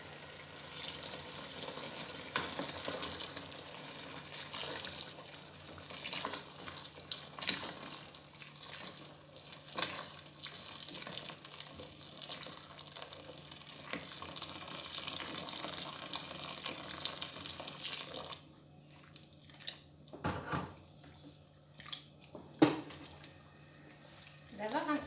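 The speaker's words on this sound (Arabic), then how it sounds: "كنزيد الماء طايب." Water poured into a pot of Moroccan harira soup, a steady close rushing splash that runs on and then stops abruptly near the end, leaving brief clatters and faint sounds.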